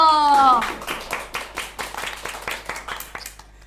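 School students clap for members of a taekwondo extracurricular club, a loose round of hand claps from a small group following a brief voice at the start, irregular and fading toward the end.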